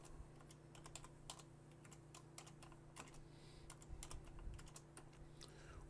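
Steady clicking of keys on a computer keyboard as an admin password is typed, a close, even run of keystrokes over a low constant hum.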